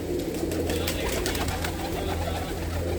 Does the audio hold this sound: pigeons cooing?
yes